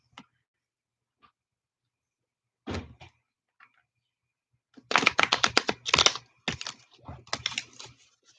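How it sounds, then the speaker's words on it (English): Tarot cards being shuffled by hand: a couple of soft isolated flicks, then a dense burst of rapid riffling clatter with short pauses, close and fairly loud, no voices. "I'm not doing a good job with shuffling these cards."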